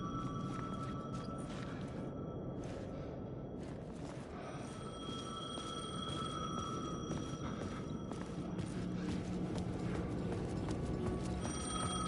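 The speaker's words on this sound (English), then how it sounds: "The payphone was ringing." A payphone rings in the video game Alan Wake, its bell tones repeating steadily over a low, continuous ambient background with no talking.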